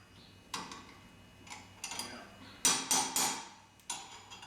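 A wrench snugs up a fitting during a 6-link suspension install. It makes a few sharp, close, quiet metallic clicks and clanks at irregular intervals, with a couple of quick doubled ticks and no talking.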